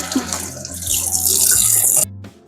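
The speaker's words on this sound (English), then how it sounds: "now I'm going to give my hands a quick wash" Water runs steadily from a tap while hands are rinsed under it, a close, continuous splashing flow that cuts off abruptly near the end.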